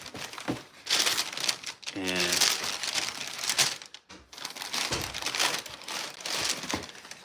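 White tissue paper crinkles and rustles around a pair of Air Jordan 1 sneakers, loud and close in repeated handling bursts, with someone talking at times.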